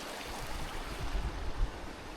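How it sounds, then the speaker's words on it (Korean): Steady trickling water from a small stream, soft and continuous, close by with no voices. "졸졸졸졸 시냇물도 흐르고 있어서"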